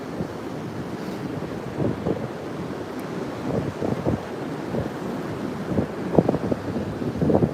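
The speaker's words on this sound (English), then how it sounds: "these waves are coming in here" Ocean waves rolling in at Hastings Point during a low-pressure system, a rumbling wash of surf with intermittent swells, heavily buffeted by wind noise on the microphone and no speech.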